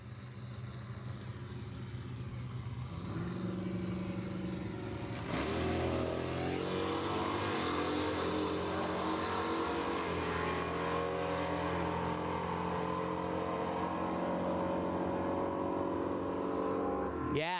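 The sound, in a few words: Mopar drag race cars accelerating off the start line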